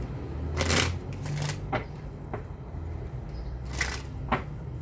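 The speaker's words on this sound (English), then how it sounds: "I always shuffle on camera" Tarot cards are shuffled close by in a few quick riffling bursts with soft taps and pauses between them, in a quiet room with no one talking.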